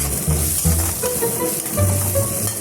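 Eggs dropped into melted butter in a pan over a very low flame crackle and sizzle continuously, a close, steady hiss with soft spatters.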